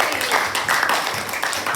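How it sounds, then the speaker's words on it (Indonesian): A crowd claps in a steady, dense patter that runs the full length, moderately loud and even, without any voice standing out. "Tepuk tangan lagi."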